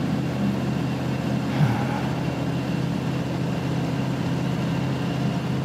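Tractor engine in Farming Simulator 2013 straining to climb a steep hill, a continuous low heavy drone holding steady and loud the whole time, with no voices.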